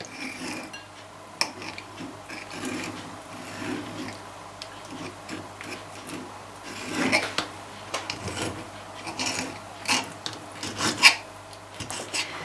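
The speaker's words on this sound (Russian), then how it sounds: "Мы ее будем резать кубиками. Нарезаем вдоль, все просто." Soft, irregular knife strokes scraping and tapping on a cutting board while slicing herring fillet, quiet and close, with brief pauses between cuts.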